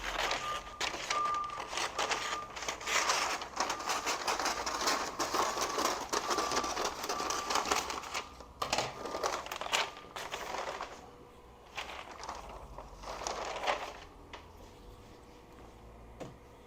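Scissors cutting through free packaging paper from Home Depot, a quiet run of crinkly snips and rustles close by, thinning out toward the end.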